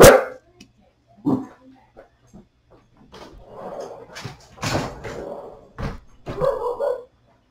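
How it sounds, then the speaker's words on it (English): A pet dog barks indoors in a few short, sharp bursts spread out across several seconds, fairly close and with quiet gaps between, with faint household thumps mixed in. "Sorry, I had to let my dog out. He was barking."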